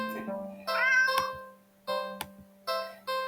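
A black stray cat meows several times in a row, close and fairly loud, each call short and clearly separated, with a low steady hum underneath and no voices.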